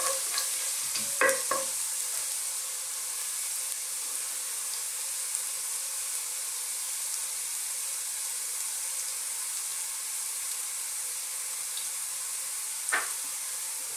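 Ginger and onion quietly sizzle as they sauté in a pan for a green beans and pork dish, a faint steady hiss broken by a few brief stirring clinks near the start and end.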